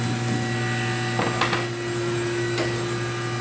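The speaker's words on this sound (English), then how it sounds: "hit the button, let the machine run, and you get all your parts" A mini mill machine runs in a manufacturing shop, a steady mechanical hum with fixed tones and a few brief clicks and knocks over it, no talk.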